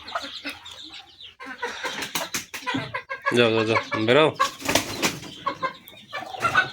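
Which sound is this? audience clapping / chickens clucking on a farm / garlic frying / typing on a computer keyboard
chickens clucking on a farm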